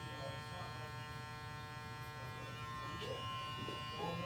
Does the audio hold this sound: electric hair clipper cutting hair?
yes